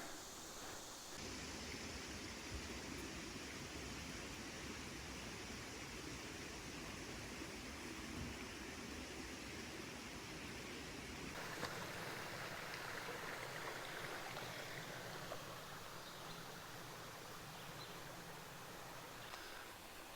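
The Lost River in Natural Bridge State Park flows steadily, a dense, continuous hiss of rushing water heard close and alone, with a slight shift in tone partway through.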